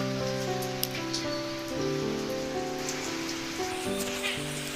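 Rain falls steadily on a rooftop garden of potted plants and fruit trees, a soft even patter spread across the whole scene. Sustained tones ring faintly underneath, and no one speaks.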